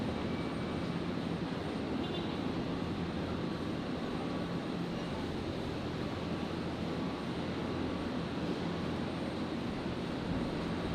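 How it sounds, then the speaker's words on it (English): A Jetstar airliner arriving from Sydney at Brisbane Airport produces a steady, broad jet roar that stays constant and fairly distant for the whole stretch, with no voices. "So while the Emirates is sort of out of view, we'll catch the arriving Jetstar. Jetstar 824 coming in from Sydney."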